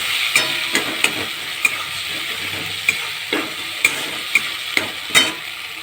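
A spoon scrapes and taps through tomato and spices frying in a pan, with a steady sizzle underneath and sharp periodic clinks against the metal; no one speaks.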